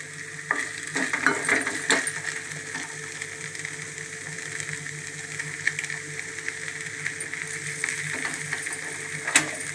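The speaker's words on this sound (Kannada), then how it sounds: "ಬಾರ್ಲಿ ಅಕ್ಕಿದು ರೈಸ್ನ ಹಾಕಿ ಎಲ್ಲ ಫ್ರೈ ಮಾಡ್ತಾ ಇದ್ದೀನಿ" Barley rice stir-fried in a pan gives a steady close-up sizzle, with scraping and clinking strokes of the spoon against the pan scattered throughout and no talking.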